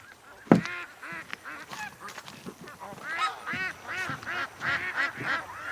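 Ducks by a pond quack and honk in a busy chorus, several birds calling near and far in uneven bursts, with one sharp knock early on.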